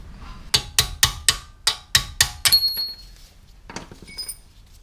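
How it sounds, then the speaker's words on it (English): A brake caliper pad pin is driven out on a Porsche Boxster 986. About eight sharp, close metallic taps come in a quick rhythm, then a short pause and a few more lighter clinks follow. "I'm pushing the pin out."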